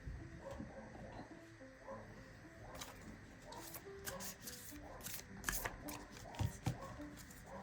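Oracle card deck being shuffled during a tarot card reading, soft repeated riffling and flicking of cards at close range, with faint background noise from outside and no talk.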